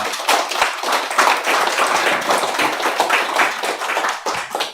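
An audience in a lecture hall applauding after a special lecture, loud, dense clapping from a close crowd that continues steadily for the whole stretch.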